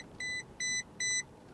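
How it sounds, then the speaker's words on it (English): BYD Atto 3 electric SUV collision warning, three evenly spaced electronic beeps of equal length, clear over a faint low cabin rumble. "beeping was not a microwave. That was actually the car telling me that I was about to run into somebody"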